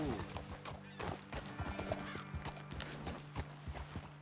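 Horse hooves clip-clopping in the Red Dead Redemption 2 video game, a quick, fairly quiet run of hoofbeats over steady game background sound, with a brief whinny-like tone in the mix.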